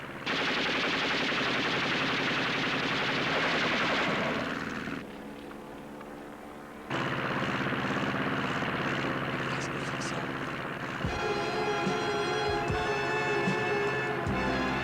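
Rapid automatic gunfire rattles loudly in a TV action scene, cutting out briefly and then resuming as a steady burst, with engine or aircraft drone and scattered sharp shots underneath.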